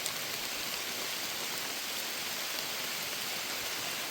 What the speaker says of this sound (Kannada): ಮಳೆ ಅಂತೂ ನಿಲ್ತಾ ಇಲ್ಲ ನೋಡಿ